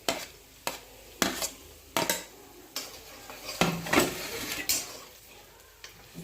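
Onion being stirred in a pan for Gobi Manchurian with fried rice: a series of sharp metallic scrapes and clacks of a utensil against the pan, irregular and fairly close, with faint frying underneath and no speech.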